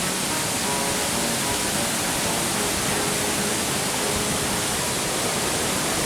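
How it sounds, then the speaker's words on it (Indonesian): Roar of the Laputi waterfall, a steady, loud wash of broadband falling water that stays constant throughout with no voices. "Ya, deru airnya kita sudah bisa dengar dan rasa."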